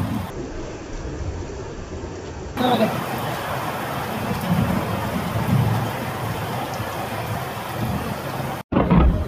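Heavy rain and thunder at Kiyabashi, Turkey: a dense, loud hiss of rainfall with low rumbling underneath, a short break and a change in level partway through, and someone speaking over it.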